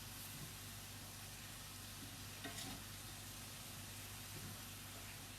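Garlic cloves sizzling in an extremely hot pan for an Asian beef and vegetable dish, giving a steady close hiss with a few small crackles, no voices.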